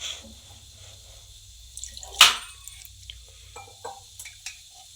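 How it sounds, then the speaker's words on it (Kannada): A single short splash sounds as water is poured into tomato chutney in a pan, followed by a few faint drips and light clinks over a quiet low hum. "ಸ್ವಲ್ಪ ನೀರು ಹಾಕಿ ಅದನ್ನು"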